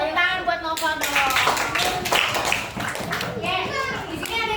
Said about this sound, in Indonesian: Tepuk tangan buat Nova dong.